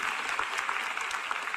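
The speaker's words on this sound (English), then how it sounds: "A round of applause for math" Audience applause at an NVIDIA GTC keynote in Taipei: a brief burst of dense clapping from a large crowd, steady and fairly loud throughout.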